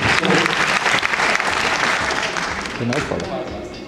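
Dense audience applause fills a hall at a Londa Professional hair show gala, steady and loud throughout before gradually thinning toward the end, with voices mixed in beneath the clapping.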